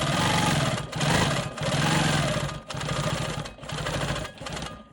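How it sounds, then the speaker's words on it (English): A Quilt Maker Pro 20 quilting machine stitches in the ditch around a quilt block, its motor whirring with a fast mechanical needle rhythm in four bursts separated by brief pauses. "I'm going to go ahead and stitch in the ditch around this green square"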